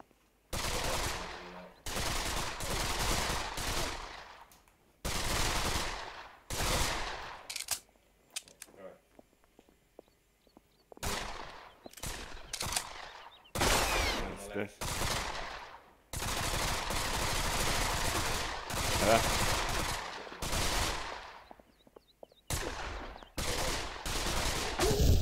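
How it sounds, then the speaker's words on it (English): Automatic gunfire in a VR shooting game played on an HTC Vive, coming in long bursts of rapid shots separated by short quiet gaps, with some voices talking in between. "that's just someone shooting at me"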